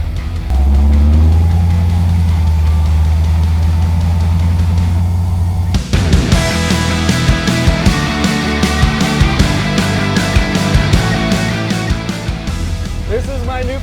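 A 1972 GMC Suburban engine hums low and steady on a drive, then the sound turns busier with rattles and road noise as it gets moving, while people talk inside the cabin.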